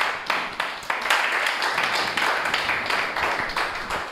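A church congregation claps together in acclaim of the Lord, with loud, fairly regular rhythmic claps that keep a steady pulse and fill the space close by, and no talk over them.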